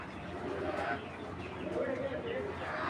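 A released pigeon coos softly in a loft of fancy breeds, its low warbling call faint and fairly distant, with murmuring voices and background noise around it.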